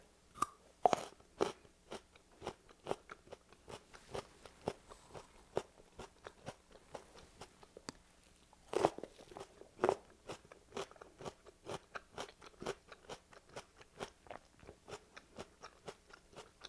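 Steady crisp crunches from chewing raw celery, close and quiet, repeating in a regular rhythm of bites and chews with no talking.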